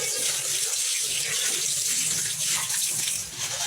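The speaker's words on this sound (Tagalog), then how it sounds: "hugasan na natin syempre, di ba?" Pot washed under a running kitchen tap, with a loud steady gush of water splashing into the sink, close and continuous throughout.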